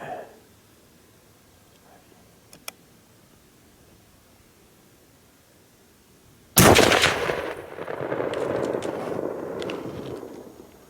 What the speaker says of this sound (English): Shot a buck.